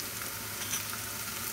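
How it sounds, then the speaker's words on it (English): Ginger, garlic and green chili paste frying with browned onions in a kadai for prawns, giving a steady, close, even sizzle with a faint stir near the middle and no talking. "Now I will add ginger garlic paste."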